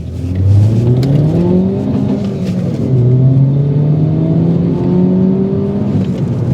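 Alfa Romeo Giulietta QV with a 1.7 engine accelerating through long gears: a loud close engine drone climbs steadily in pitch, drops at a gear change, then climbs again, with no talk.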